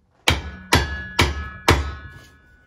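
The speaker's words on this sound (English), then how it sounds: "Take a piece of wood and just hammer this on a little bit." Four sharp, ringing hammer blows on a piece of wood, driving a shovel onto its handle, evenly spaced and close, each with a short resonant decay.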